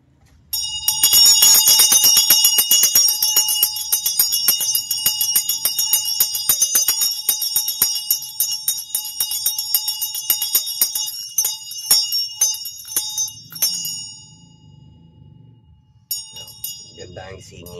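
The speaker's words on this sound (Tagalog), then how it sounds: "Ganda ang singing bell ko sa kanya" A singing bell rings out in bright, sustained metallic tones, struck repeatedly in a fast shimmering rhythm that gradually thins and fades, with a low voice murmuring quietly beneath and a few final strikes near the end.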